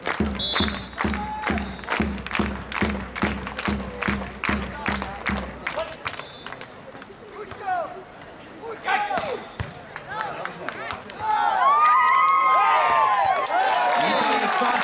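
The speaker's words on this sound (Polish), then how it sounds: "Wszyscy klaszczą." Spectators clap in unison at the Silesia Open 2012 beach volleyball match, steady rhythmic claps in the first seconds, then a looser crowd murmur with bouncing ball hits and rising cheers and whistles near the end, a commentator talking throughout.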